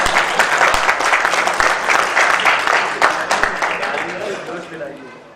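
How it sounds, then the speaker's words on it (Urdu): Audience at an Urdu mushaira poetry recital applauds loudly, a dense burst of clapping that gradually fades, with a voice speaking over the applause. "تالیاں زور سے بجیے"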